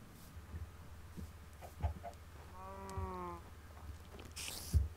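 A single Minecraft chicken clucks clearly over a low, steady background hum, with a few faint clicks and a brief noisy burst near the end.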